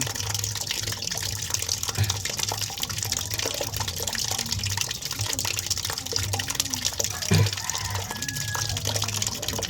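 Tap water runs steadily into a sink while fish is being washed, a soft continuous splashing flow with a brief louder splash near the end.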